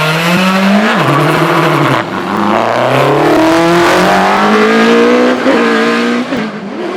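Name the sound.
2002 Ralt Formula 3 race car, Cosworth BDG engine, hillclimb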